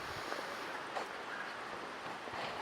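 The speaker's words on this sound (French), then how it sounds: "Le vent va faire du bruit." Steady wind buffeting a microphone, a dull continuous rumble and rush with a few stronger gusts, loud and close, no speech.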